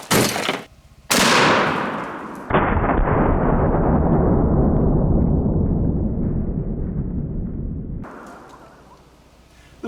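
A 10 gauge double barrel shotgun firing a slug into a pineapple: two sharp close blasts open the clip, followed by a loud, long rolling boom that sustains and slowly fades, with no talking.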